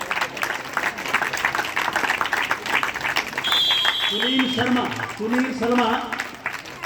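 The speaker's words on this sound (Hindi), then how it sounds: "जोरदार तालियों के साथ उनका अभिनंदन है, स्वागत है।" An audience claps for a students' exercise demonstration at a gurukul in Aryanagar, Hisar, Haryana. The applause is a steady wash under someone speaking over an amplified system.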